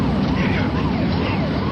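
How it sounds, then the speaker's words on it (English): An ambulance siren approaches with a steady wailing sweep, continuous and fairly loud over constant background rumble, with no one talking. "I seen the ambulance coming down the other side"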